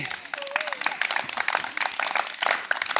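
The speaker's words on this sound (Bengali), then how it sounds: "জোরে তালি দাও সবাই।" Children clap loudly together at a temple-based education class, a dense burst of quick handclaps mixed with chatter and voices.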